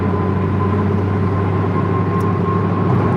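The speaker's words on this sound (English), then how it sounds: "this is a little bit loud, because you can hear all the road noise" Road noise inside a moving Dodge Challenger SRT Demon 1320: a constant low drone and tire roar with a steady tonal hum, loud and unbroken, with no talking.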